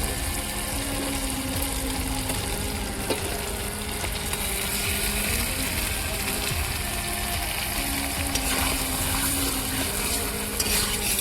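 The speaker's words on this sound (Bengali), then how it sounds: "এখন আমি ভেজে রাখা পনিরগুলো এখানে দিয়ে" Fried paneer is tipped into a pan of well-cooked, oil-releasing masala for a milk and paneer dish and stirred, giving a steady close sizzle with spoon scrapes and clinks throughout, while a voice speaks faintly underneath.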